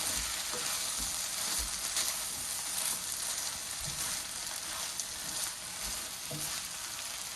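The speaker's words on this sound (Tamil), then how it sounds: "இந்த நேரத்தில் நம்ம மஷ்ரூமை போட போகிறோம்." Mushrooms fry in oil in a pan with a steady sizzle, and a spoon scrapes now and then as they are stirred, close up with no talking.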